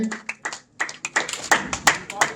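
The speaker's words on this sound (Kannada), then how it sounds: "ಜೋರಾದ ಚಪ್ಪಾಳೆಯ ಮೂಲಕ ಈ ಒಂದು ಕಾರ್ಯಕ್ರಮಕ್ಕೆ ಶೋಭೆಯನ್ನು ತಂದುಕೊಡಬೇಕೆಂದು ಕೇಳಿಕೊಳ್ಳುತ್ತೇನೆ" Audience clapping at a village function launching a slow two-wheeler riding contest, scattered uneven claps building into a quicker patter, close and crisp, with a voice speaking over the start.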